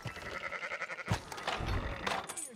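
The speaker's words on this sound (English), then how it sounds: "Fine sheep." Sheep bleating in Red Dead Redemption 2, a few wavering nasal bleats close by, with a muffled thump and light mechanical noise between calls.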